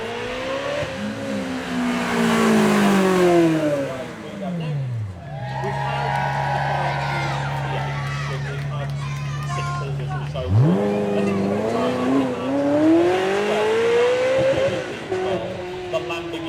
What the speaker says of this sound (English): The Lamborghini V12, the daddy of them all.